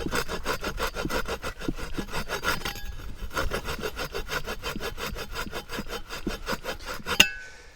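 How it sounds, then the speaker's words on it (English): A Chinese entrenching tool's short cross-cut saw edge rasps back and forth through wood in a steady, rapid series of close, loud strokes, with a sharp knock near the end. "Check out the saw."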